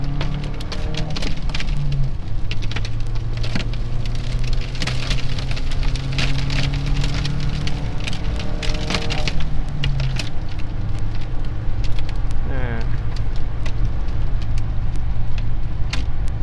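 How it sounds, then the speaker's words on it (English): A 2004 Ford Ranger pickup with 143 horsepower and a weighted bed is floored through second, third and fourth gears up to 70 mph. The engine drones steadily upward in pitch, drops at each shift, then climbs again under constant road noise. "So I floored it in 2nd, 3rd, 4th gear, got it up to 70."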